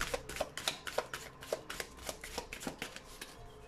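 Tarot cards shuffled by hand in a quick, rhythmic run of soft riffling slaps, close and fairly quiet, with no talking.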